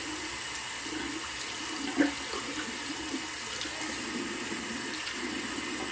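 Tap water runs steadily into a sink to wet an alum block, a close, even hiss of flowing water with one brief knock partway through.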